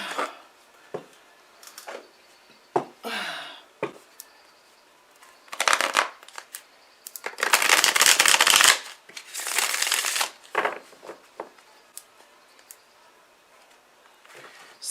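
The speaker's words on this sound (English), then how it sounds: "I gotta select some tarot cards." Tarot cards shuffled by hand, with several short riffling bursts and two longer, louder shuffles in the middle, close and crisp with no talking.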